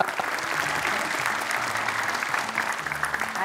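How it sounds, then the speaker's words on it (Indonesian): A studio audience at an Indonesian children's Quran memorization contest claps for a six-year-old contestant, a thick, even wash of hands throughout with faint voices underneath. "tepuk tangan untuk Davandra loh"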